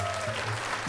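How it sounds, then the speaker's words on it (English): Studio audience applause on a daytime talk show, a steady wash of clapping that runs through the whole short moment with a faint tonal hum beneath it. "You can clap."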